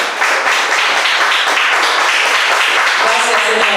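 A church congregation claps to welcome new members, a loud, close, dense patter of many hands with voices mixed in throughout.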